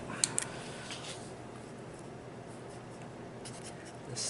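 A pen or marker writing out a trigonometric identity, a continuous close scratchy stroke with a couple of light taps at the start and end, heard alone without talk.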